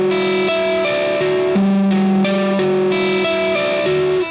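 Electric guitar plays a sustained, ringing chord pattern, notes shifting every half second or so in a steady repeating figure, clean and fairly loud with no talking.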